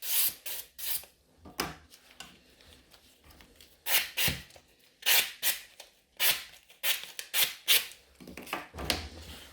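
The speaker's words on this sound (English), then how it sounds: "Okay, time for some filing." Hand file rasping over gel nails during a salon gel rebalance, shaping the edges: repeated close, dry scraping strokes in uneven bursts with short pauses between them.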